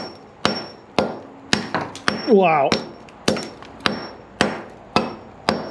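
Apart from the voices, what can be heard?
hammer and chisel on concrete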